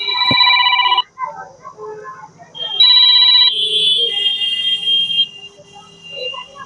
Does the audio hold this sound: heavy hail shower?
no